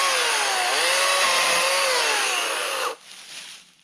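An Atlas 80V battery chainsaw from Harbor Freight cutting wood gives a loud, steady electric whine whose pitch dips and rises as it loads, then cuts off abruptly near the end, leaving faint room noise.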